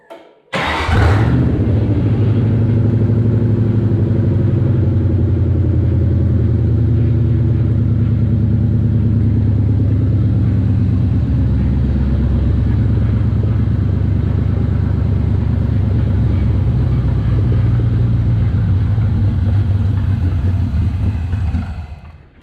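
A Factory Five Cobra Roadster engine idles steadily and loudly on its first start, a continuous low rumble that holds for about twenty seconds before cutting off; it won't stay idling.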